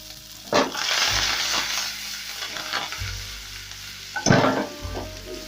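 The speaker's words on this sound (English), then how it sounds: "Then I'm going to cook this for a couple of seconds, and once the garlic starts getting fragrant" Garlic and coriander stems fry in about half a tablespoon of butter or margarine for a honey garlic chicken recipe. A loud, steady sizzle is broken by stirring scrapes and a few sharper clatters from the pan, close up, with no talk.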